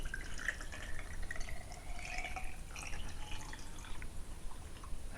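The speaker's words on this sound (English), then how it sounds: "So let's open this bottle here and we'll pour it in." Hydrogen peroxide poured from a bottle into a glass jam jar, a steady trickling, dripping liquid stream with small splashes, close and moderately quiet throughout, with no talking.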